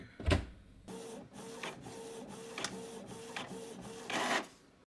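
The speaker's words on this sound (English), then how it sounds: "it's going to print on my Canon printer just like normal" A Canon inkjet printer runs a sticker sheet through, with a clunk at the start, then rhythmic whirring print-head passes and mechanical clicks repeating about every half second, fairly quiet and close.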